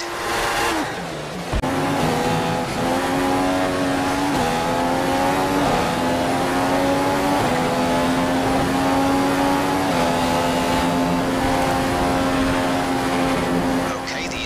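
Formula One race car engine in the F1 2015 video game, a loud continuous high-pitched whine climbing steadily in pitch as the car accelerates back up to racing speed, with brief dips at gear changes.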